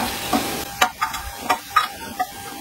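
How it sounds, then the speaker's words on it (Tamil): Flattened rice (aval) being roasted in ghee in a pan, with a light sizzle and a few quick scraping stirs of the spatula, close and fairly loud, without any voices. "இப்போ இந்த நெய்லேயே அவல் கொஞ்சம் வறுத்துக்கிறேன்"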